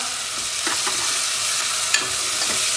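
Cumin seeds with onion roast in hot oil in a pan, giving a steady bright sizzle with light stirring scrapes and a few soft taps, close and continuous.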